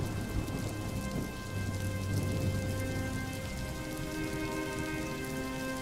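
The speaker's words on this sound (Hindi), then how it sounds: "बारिश में आंगन में रखी आरती की सूखी लकड़ियां तुरंत भीग गईं।" Heavy rain pours steadily in a cartoon storm, a dense, constant hiss of drops with low thunder rumbling beneath and a faint steady tone running through it.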